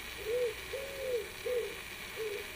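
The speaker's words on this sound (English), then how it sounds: "I've got a pigeon in the background." A pigeon coos in the background outdoors, giving four soft, low, drawn-out calls at an even pace over a steady hiss of ambient noise, with no one speaking.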